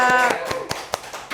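A brief scatter of hand claps, roughly five sharp separate slaps, follows the tail end of a speaking voice at a studio talk show.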